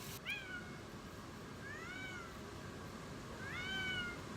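A pet cat named Oliver meows three times, short rising calls spaced out over a quiet room background, fairly close and clear with no talking.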